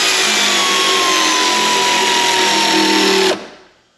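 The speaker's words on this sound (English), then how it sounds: "And now I'll use the air one for the side to tighten the other one at the top." Air ratchet tightening a bolt on a GMC Sierra AT4X side step, a loud steady pneumatic whir held for about three seconds before cutting off abruptly and trailing away.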